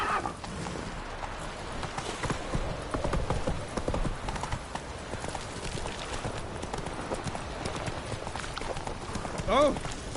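Hooves of Roach, a horse in a video game, clip-clop steadily at a gallop throughout, with game sounds and a voice talking over it, and a brief sharper cry near the end.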